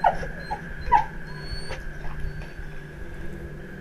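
A frightened dog gives a couple of high, thin whimpers near the start, then keeps whining softly and intermittently over a low background hum.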